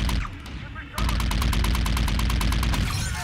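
Rapid, regular bursts of automatic gunfire in Call of Duty: Infinite Warfare ring out loud and close for over two seconds after a brief quieter stretch.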